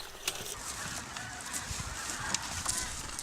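Bean geese call with scattered honks over a steady outdoor rumble in a field, the cries brief and spread across the moment, a few standing out louder.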